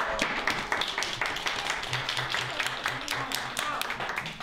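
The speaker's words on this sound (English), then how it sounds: "Give yourselves a big round of applause." Children at a school Book Week event clap in a round of applause, a lively patter of many small hands, fairly quiet, with some voices mixed in.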